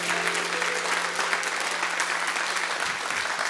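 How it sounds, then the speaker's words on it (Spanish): Church congregation applauding loudly during a Spanish-language sermon, continuous dense clapping with a faint steady hum beneath. "Un aplauso fuerte."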